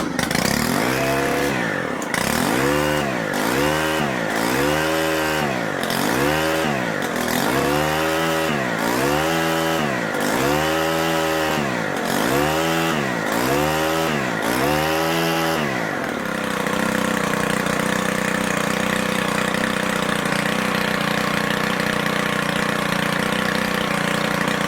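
A Stihl multi tool engine, a little out of tune and running with no head attached, pulls through repeated rising and falling revs for about fifteen seconds, then settles into a steady, loud idle.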